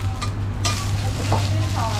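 Chicken noodles sizzle loudly in a hot wok at a roadside stall while a utensil scrapes and stirs, with a few metallic clinks of cookware.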